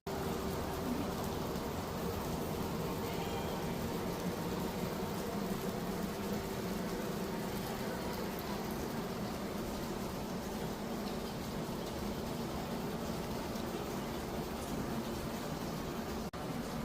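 Steady rain falls continuously in Kerala, a dense even hiss that lasts throughout with no pauses.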